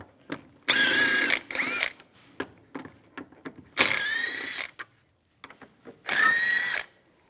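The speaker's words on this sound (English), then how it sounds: "use a T30 socket, take these 4 screws out" Power ratchet with a T30 socket backs out four cover screws on a 2004-2010 BMW X3 intake, coming as three or four loud, close whirring bursts with quieter clicks and handling noise between them.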